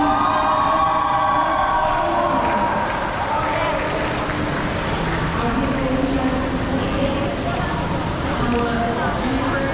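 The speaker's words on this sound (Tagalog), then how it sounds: "Ayun yung tren." A train rolls past in Singapore as a steady, loud rumble with rail noise that fills the scene, while people chat over it throughout.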